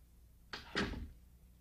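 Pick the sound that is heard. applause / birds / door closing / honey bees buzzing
door closing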